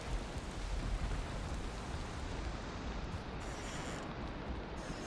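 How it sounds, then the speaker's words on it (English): Rain falls in the survival video game Valheim as a steady, even hiss of rainfall that holds at one level throughout, with no talking over it. "Raining."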